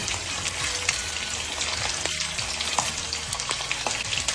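Shrimp frying in oil in a wok, a loud, steady close-up sizzle and crackle throughout with faint stirring scrapes.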